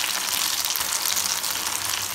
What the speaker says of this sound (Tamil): இந்த மாதிரி எண்ணெயில் போட்டு கொஞ்சம் கொஞ்சமாக அப்படியே பிரித்து விட்டுருங்க